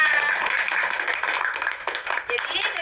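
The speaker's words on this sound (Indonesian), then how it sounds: "Tepuk tangan untuk kita semua." Group of students clapping together at the close of a school guidance and counseling session, brief uneven claps heard nearby with voices talking over them.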